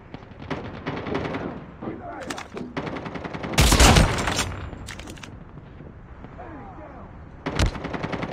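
Rapid bursts of gunfire from the mobile shooter game Call of Duty Mobile, with loud blasts around the middle and near the end, heard amid game sounds and a voice.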